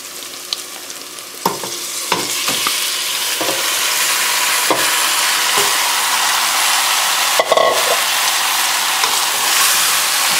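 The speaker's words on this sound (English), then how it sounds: "I'm going to stir all of this together, mix this up well." Lamb sautéing for biryani sizzles steadily in a pan, a loud continuous fry broken by several sharp scrapes and clinks of a spoon stirring, with no one talking.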